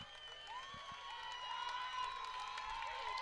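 A baseball crowd at a 4A state tournament game getting worked up, with many voices shouting and cheering together in a rising, sustained roar that grows slightly louder toward the end.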